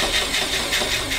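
A VW Beetle engine cranks on a bench starter in a steady, close, loud churning whirr that lasts about a second without a break.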